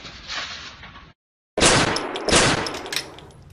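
A loud burst of gunfire cracks out in a comedy skit, a rapid volley that breaks off into silence and then resumes with sharp, echoing shots.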